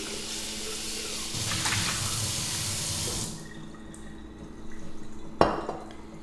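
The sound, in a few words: rinsing a container with water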